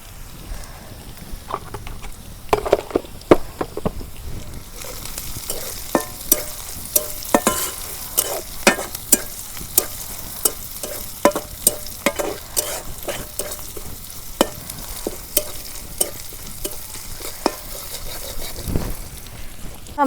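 Cumin and chicken fry in a hot pan, a steady close sizzle broken by frequent sharp clicks and scrapes as a utensil stirs and knocks against the pan.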